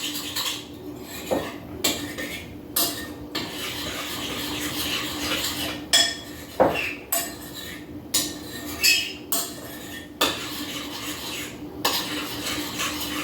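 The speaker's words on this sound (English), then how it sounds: "Now time to start mixing my ingredients." Cooking ingredients seasoned with salt, pepper and onion powder being mixed in a bowl: a steady rhythm of spoon scrapes and taps against the bowl, close and moderately loud over a faint background hum.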